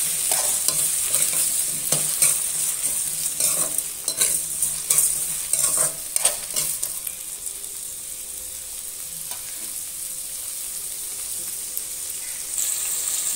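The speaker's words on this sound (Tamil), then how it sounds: "இப்போ நல்லா கலந்து விட்டுடலாம். தக்காளி மத்தியட்டும்." Tomatoes with rock salt stirred and frying in a pan for mutton coconut milk curry, with busy scraping stir strokes over a bright hiss in the first half, then a calmer steady sizzle, close and clear with no talk.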